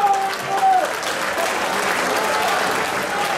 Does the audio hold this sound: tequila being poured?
no